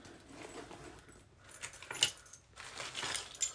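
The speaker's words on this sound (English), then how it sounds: "my keys," Keys jangle as they are pulled out of a large hobo handbag, a few brief metallic clinks and rattles heard close up against a quiet room.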